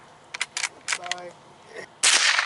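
A Marlin .22 Long Rifle fires a single sharp, loud shot near the end, after a few faint clicks and handling noises.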